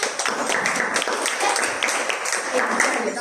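A classroom of students claps together for a classmate, producing dense, steady applause that stays fairly close and full with a faint voice mixed in.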